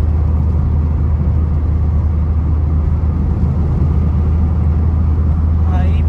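A Chevrolet Spin accelerating on the road, heard from inside as a steady, loud engine and road rumble with no distinct change in pitch, with people talking over it.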